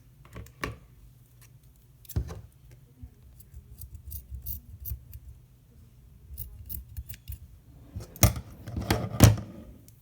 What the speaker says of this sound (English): You can also cut off the excess string if you have any.